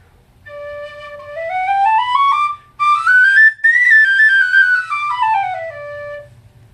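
A Chuck Tilbury soprano C tin whistle plays alone, clear and close, a bright breathy tone stepping up through a rising run of notes, briefly pausing, then descending again.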